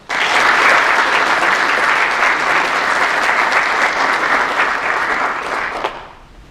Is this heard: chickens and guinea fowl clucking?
no